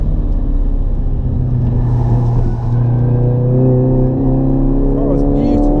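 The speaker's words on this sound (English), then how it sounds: "It's really spinning its wheels up." Audi car at Castle Combe circuit during the Audi Driver International event, accelerating hard with its wheels spinning: a loud, sustained engine drone with rising revs close by, under a continuous commentating voice.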